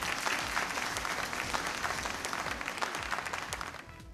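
A large audience at the ETV MP Police Awards 2014 ceremony claps in a dense, enthusiastic round of applause that holds strong, then begins to fade at the very end.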